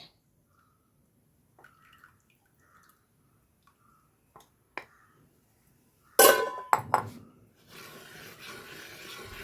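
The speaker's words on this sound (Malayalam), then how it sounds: "ശർക്കരയും കൂടെ ഒഴിച്ചു കൊടുക്കണ്ടേ." Jaggery syrup poured into a pot of banana payasam: a few faint clinks and taps, then a sudden loud splashing hiss that settles into a steady bubbling pour.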